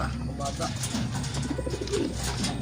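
Racing pigeons coo in a loft in Santo Tomas, Batangas, their soft, repeated calls close by over a constant background hum, with voices faintly present.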